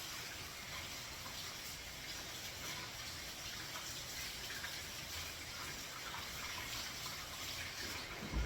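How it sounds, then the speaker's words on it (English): Tap water running steadily while hands are washed, a constant close hiss and splash of flowing water, fairly quiet and unbroken throughout. "they're gonna thoroughly wash their hands now"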